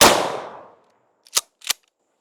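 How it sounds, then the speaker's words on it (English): A shotgun firing double-aught buckshot loads for home defense: a loud blast with a decaying tail, then two sharp, short reports about a quarter-second apart, alone with no talk. "The next load we're going to shoot is going to be your double-aught buck."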